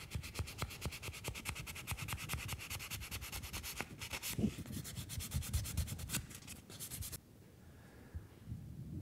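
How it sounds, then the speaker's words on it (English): Rapid back-and-forth sanding strokes scrape steadily on a wooden model tugboat, a rhythmic rasping that stops abruptly near the end, leaving quiet. "then I'll start giving the boat itself a final sanding"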